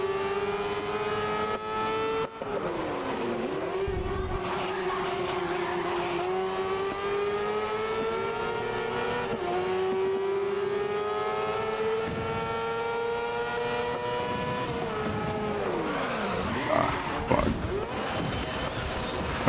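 A race car in the video game GRID (2019) drones steadily at high revs for about twenty seconds, with brief dips at gear shifts and a louder tire-squealing moment near the end.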